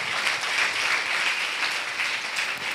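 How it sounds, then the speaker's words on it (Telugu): A church congregation applauding together, dense continuous clapping from a crowd filling the room, steady and loud for a few seconds without a break. "చప్పట్లు కొడదాం, దేవుని మహింపరచుదాం"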